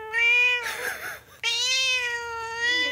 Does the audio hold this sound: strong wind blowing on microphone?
no